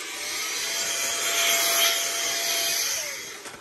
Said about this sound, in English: Amazing little shop blower for these boxes. Cleans it up real nice.